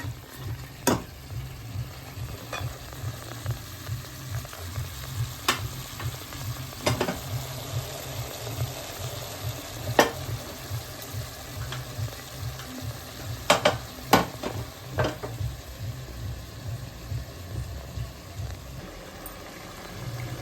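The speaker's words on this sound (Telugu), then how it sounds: "చికెన్ ఫ్రై అయిపోయింది బాగానే." Half a kilo of chicken for biryani sizzles steadily in a pan, a continuous close frying hiss with occasional sharp clicks and scrapes of a spoon, no voices.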